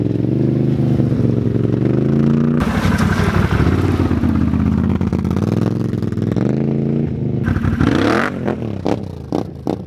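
Can-Am Outlander 1000 ATV fitted with new Assassinator tires pulls away, its loud engine revving and shifting through varying pitches with clattering over rough ground, steady and close throughout before easing off near the end.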